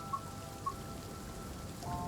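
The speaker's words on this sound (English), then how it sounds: "It's raining." Steady rain patters in a soft continuous wash in the video game Train Sim World 3, with a few faint tonal blips drifting above it.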